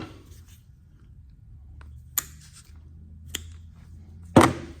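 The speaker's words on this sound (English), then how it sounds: "Cut this rope" A rope being cut, a few sharp snips or rough sawing rubs, three short distinct cuts spaced apart, close and fairly quiet in a still room.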